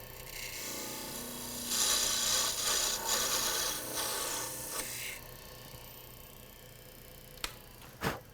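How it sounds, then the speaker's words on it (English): Sandpaper rubs against spinning wood on a lathe during parting off a turned gimbal clock part, a rasping hiss that swells in the middle, fades away, then ends with a couple of sharp knocks. "Just start parting it and then touch it with the sandpaper."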